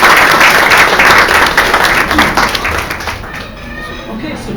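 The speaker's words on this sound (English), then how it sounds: "Let's give another round of applause." Guests at a dinner event give a round of applause, a loud, close, dense patter of clapping that gradually softens toward the end, with voices mixed in underneath.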